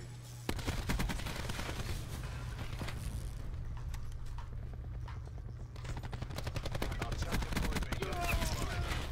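Rapid automatic gunfire at a firing range in Black Ops 4, dense rattling bursts of shots with a short lull in the middle before heavy firing resumes, over a constant low hum.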